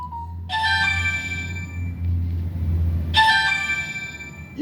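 Electronic phone ringtone playing a bright, repeating melodic chime in two bursts with a pause between, loud and close over a low background hum.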